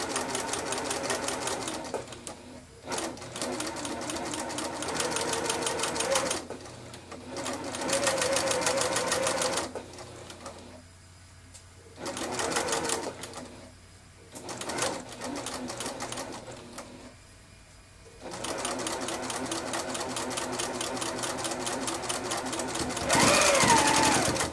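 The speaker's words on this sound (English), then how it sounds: "you're just going to sew these two pieces together" A sewing machine stitches two scrub cap fabric pieces together in fast mechanical bursts, whirring runs broken by short pauses as the fabric is adjusted, close and clear with no talking.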